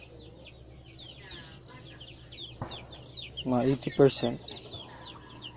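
Three-day-old crossbreed silkie chicks peep in quick, thin repeated chirps throughout, close by, while a person speaks over them partway through.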